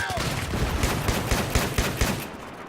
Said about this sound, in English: you're using a fully automatic shotgun